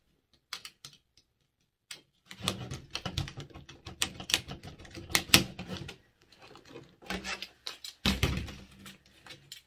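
Cutting straight through the bottom of a Dollar Tree household item, held down while a blade works through it in scattered crunchy bursts with short pauses, loudest near the end.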